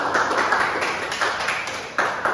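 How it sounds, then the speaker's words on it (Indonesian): A room of people applauds the pro and contra teams at a constitutional debate, loud close clapping that surges in uneven pulses across a couple of seconds. "Tepuk tangan."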